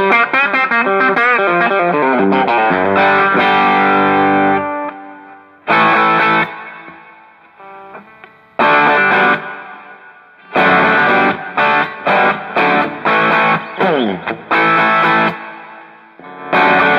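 Electric guitar driven through a Quilter Superblock UK amp in 1W pedal mode, overdriven chords ringing out then chopped into bursts of distorted strums separated by short silences, loud and close with no talk.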